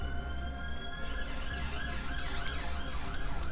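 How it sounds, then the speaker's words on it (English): Police sirens wail continuously in the background, their rising and falling tones repeating steadily over a low rumbling bed, moderately loud throughout with no talking. "I don't know if you heard the sirens in the background"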